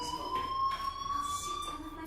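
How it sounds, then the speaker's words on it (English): In the video game Life Is Strange, a fire alarm rings as a steady electronic tone that holds throughout, pulsing slightly, moderately loud and carrying alone without talk. "Hey, do you hear that fire alarm?"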